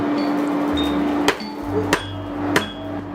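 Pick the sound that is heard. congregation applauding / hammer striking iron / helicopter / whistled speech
hammer striking iron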